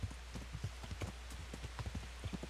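Horse hooves clip-clopping in the video game Kingdom Come Deliverance, a quiet, steady trotting rhythm of repeated hoof strikes throughout, soft and somewhat distant with no speech.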